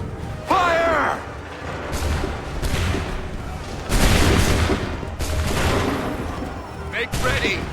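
Musket volleys crack out in Assassin's Creed 3, several loud ragged bursts of massed gunfire spaced a couple of seconds apart, with shouted commands and battlefield noise around them.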